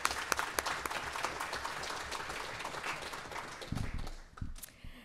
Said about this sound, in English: A round of applause for Trevor.